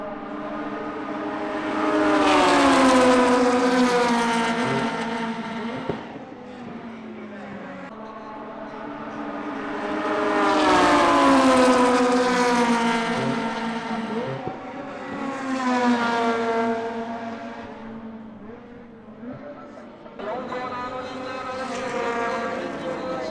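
Honda EK and DC5 race cars howl past on a track at a Team Goodluck Festival for JDM classics, engines rising and fading in three loud passes with high-revving tones and shifts.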